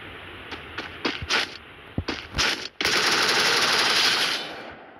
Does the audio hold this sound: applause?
no